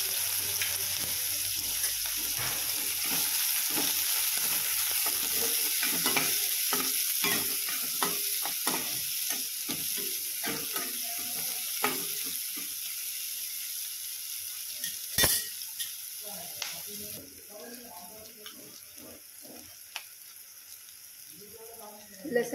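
Chopped onion hits hot oil with cumin seeds for a spicy spinach thecha, giving a steady broadband sizzle throughout, with frequent scraping stirs of a spoon in the pan and a brief clatter midway.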